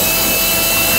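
A power drill fitted with a 13/64 bit bores through a plastic PolyJohn PJN3 portable toilet urinal into the side panel, giving a brief, loud, steady whine with no voices.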